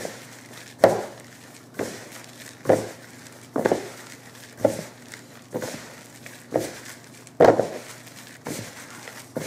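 Loose pipe tobacco blend is worked over by hand, producing a regular series of soft thumps and rustles spaced about a second apart, close and moderately loud.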